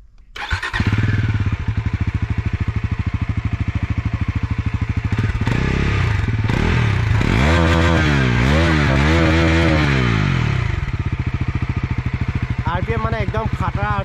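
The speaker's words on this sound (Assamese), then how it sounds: "ইয়াৰ এক্সজষ্ট সাউন্ডটো আপোনালোকক শুনাই দিছো" A 2024 Bajaj Pulsar NS400Z motorcycle starts up and idles with a loud, close exhaust thrum, then is revved in several rising and falling bursts before settling, with a few quick blips near the end.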